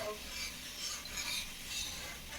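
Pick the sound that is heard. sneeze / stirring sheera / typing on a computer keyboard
stirring sheera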